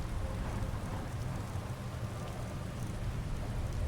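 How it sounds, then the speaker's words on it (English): Steady rain in Skyrim patters continuously with a low rumbling undertone, an even wash of sound with no voices. "Could the rain last any longer?"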